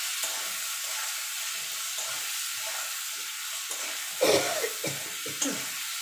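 Turmeric, salt and other spices being stirred in a frying pan over a faint steady hiss, with a few brief louder scraping strokes near the end.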